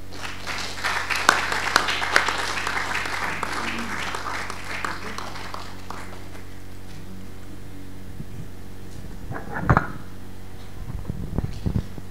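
An audience at a legacy lecture series applauds after an hour-long talk, a dense patter of clapping that swells early and then thins and fades, with a few sharp sounds and faint murmurs near the end.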